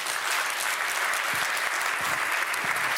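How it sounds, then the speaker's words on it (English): An audience at a hotel-industry technology panel gives steady applause as a panelist is introduced. The dense, continuous clapping fills the room, loud and unbroken, with no voices over it. "Please give a small applause to Prom."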